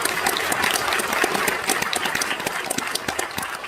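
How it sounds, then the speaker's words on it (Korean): Audience applause at a memorial ceremony and award presentation welcoming the Anglican Archbishop, an honoree; dense, steady clapping from a hall crowd, loud and continuous throughout with no talk over it. "여러분 박수로 맞이해 주시기 바랍니다."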